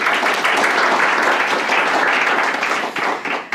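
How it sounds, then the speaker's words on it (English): An audience breaks into a dense, sustained round of clapping at a business talk, loud and continuous for a few seconds before tailing off. "Round of applause."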